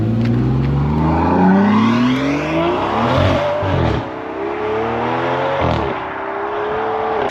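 The V12 engine of a 2025 Aston Martin Vanquish revving loudly nearby, climbing in pitch and then dropping, followed by a second, shorter rise-and-fall blip with a crisp exhaust tone.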